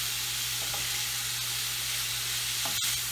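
Sausage fries in a pan as a wooden spatula presses down and breaks it up, giving a soft continuous sizzle with a steady hum and a sharp scrape near the end.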